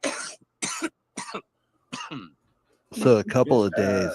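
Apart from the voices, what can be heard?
cough in the background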